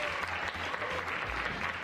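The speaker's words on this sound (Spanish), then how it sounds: "los aplausos son para mí, chicos." A group bursts into applause, a brief, dense patter of clapping hands that stays fairly even throughout.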